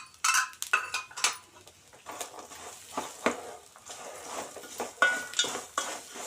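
Cashews and almonds stirred in a hot pan for a Tamil aval mixture snack, a spoon scraping and clattering against metal in quick irregular strokes over a faint sizzle, close and fairly loud throughout.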